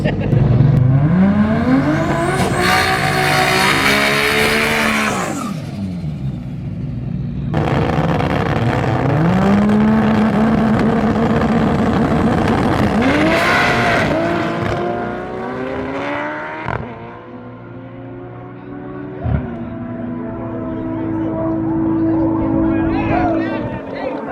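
A loud drag racing engine in a VW Bug on an MR2 chassis roars and revs through a full pass, the pitch rising and falling, with crowd noise and voices underneath.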